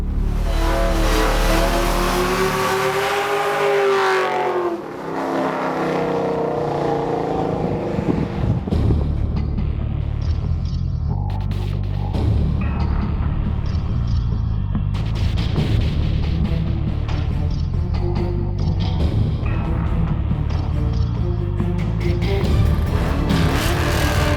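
Black D3 Battle Wagon station wagon with a 6-speed manual transmission driving hard, its loud engine revving up through the gears with rising and falling pitch and shifts, continuous and close.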